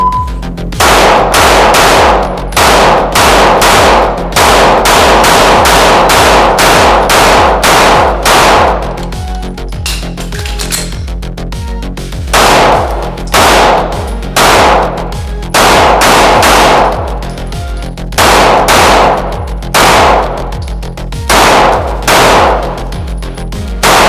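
Loud, close pistol shots from a Rost Martin RM1C fire in rapid bursts, sharp cracks arriving in quick strings separated by short pauses, with metallic ring between volleys.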